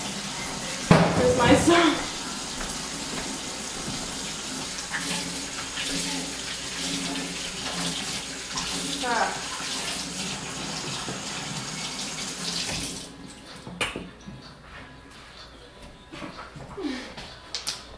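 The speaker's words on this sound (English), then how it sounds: "I need to wash my hands though" Tap water runs steadily into a kitchen sink as hands are washed during banana bread baking. The stream is close and constant for about thirteen seconds, then shuts off, with people chatting over it.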